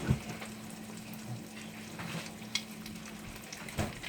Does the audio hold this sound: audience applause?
no